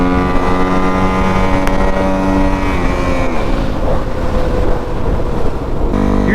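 A Kawasaki KX450F dirt bike ridden through city streets, its engine droning loud and close under heavy wind rush, with pitch shifts as the rider shifts gears and changes speed.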